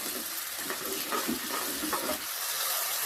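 Chopped tomatoes go into hot oil over golden-browned onions in a pan for a spicy minced-meat ball curry, giving a steady close sizzle with repeated scraping stirs of a spatula, no talking.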